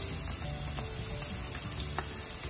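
Onion and garlic frying in hot oil in a home kitchen pan, a steady close sizzle with crackling bursts running throughout, no voices.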